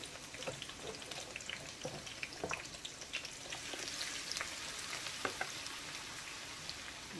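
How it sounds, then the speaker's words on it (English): Chopped vegetables saute in hot oil in a pan, giving a steady soft sizzle with scattered crackles and pops throughout, fairly quiet and with no talking. "I'm going to add some of those to my oil and saute them"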